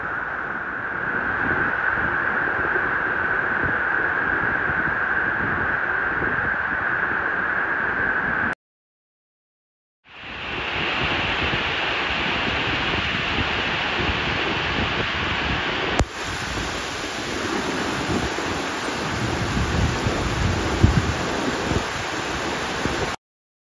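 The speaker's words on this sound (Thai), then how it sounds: "สายฝนมาเลย ฝนนี่ก็แบบแรงมากนะครับ" Heavy rain pours down at a railway junction, a steady dense hiss of downpour that briefly cuts out, then returns just as strongly with scattered louder drops and spatters.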